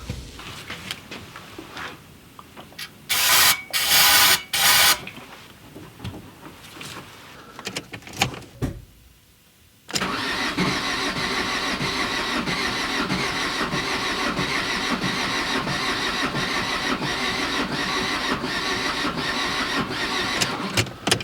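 A used car engine cranking repeatedly without catching, the starter whirring in long steady bursts that drag as the battery weakens, close and loud, with earlier shorter cranking attempts and pauses.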